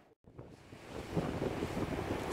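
Waves of the incoming tide at Scheveningen beach in The Hague roll in as a steady surf roar mixed with wind buffeting, rising slightly in loudness.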